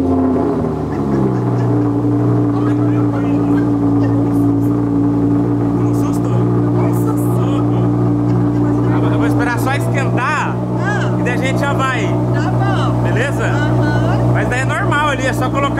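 Audi R8 engine idling while warming up, a loud steady low rumble close by throughout, with people talking over it in the second half.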